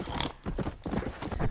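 Horse hooves clip-clopping in Red Dead Redemption, with a short whinny, several uneven bursts of hoofbeats close and fairly loud, no talk over them.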